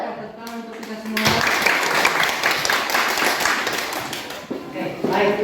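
A classroom group applauds together, a dense burst of clapping lasting several seconds after a short spoken line, with voices resuming at the end.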